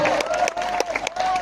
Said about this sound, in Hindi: ताली बजाओ महिलाओं के लिए